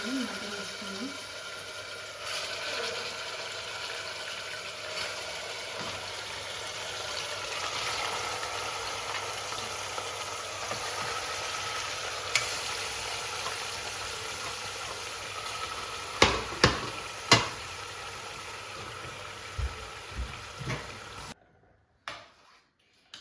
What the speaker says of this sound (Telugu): ఆయిల్ హీట్ అయింది, కొంచెం మటన్ వేసుకున్నాం.